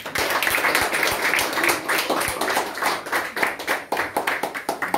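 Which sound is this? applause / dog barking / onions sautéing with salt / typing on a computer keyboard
applause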